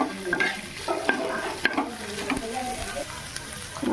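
Paneer cubes fry and get stirred in a pan with browned onion over low heat, giving a steady close sizzle broken by repeated scraping and clinking strokes of a spoon against the pan.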